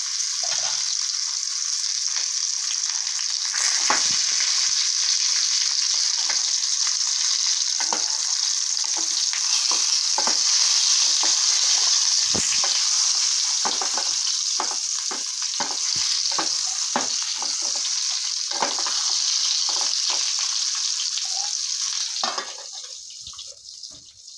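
Stuffed masala brinjals fry in hot oil in a pan, a steady, loud sizzle running throughout with frequent crackles and spatters, easing off slightly at the very end.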